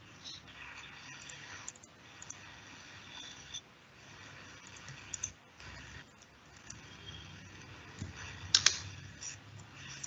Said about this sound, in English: if you just type upd, right, and then press tab on your keyboard